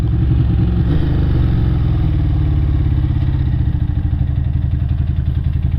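Ducati 600 Supersport with carburetors, its engine running loud and close in a steady, rumbling pulse that holds its pitch throughout.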